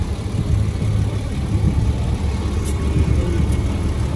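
An Iron Man Air Champ air compressor runs continuously while inflating a car tire, a steady, loud, close motor drone with an even buzzing rumble and no voices.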